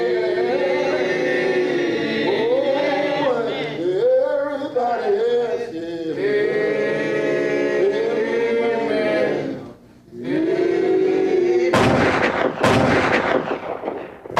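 Gunfire sound effect for a narrated account of the Elaine Massacre at a church, with two sharp, loud shots bursting out after a long sustained tonal musical bed.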